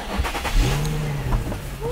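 A car found stored inside a locked storage unit cranks and catches, its engine turning over and settling into a loud, close idle with a few rising revs.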